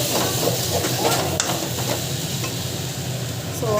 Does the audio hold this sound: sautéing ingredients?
yes